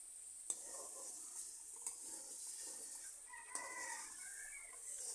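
Spices for an egg curry are stir-fried in a pan, giving a soft, steady sizzle with a few sharp scraping knocks of the spoon, faint and alone.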